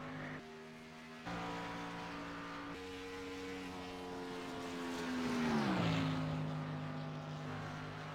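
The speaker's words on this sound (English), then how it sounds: "Just listen to the qualifying going by here." Race cars in a NASCAR Xfinity Series racing video game roar past during qualifying, engines droning steadily then rising in a loud pass with a sharp pitch drop around the middle, no talk over it.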